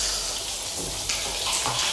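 Steady hiss of a running shower in Outlast 2, a continuous loud spray of water that fills the space without break, no voices over it.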